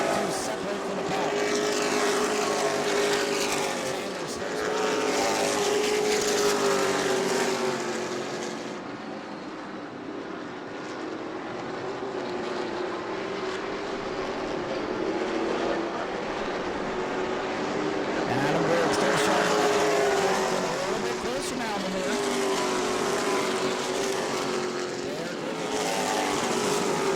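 Stock race cars roar around New Smyrna Speedway in a pack, the loud engine drone swelling and fading as cars pass, briefly dropping away midway before building again, with a commentator's voice heard faintly underneath.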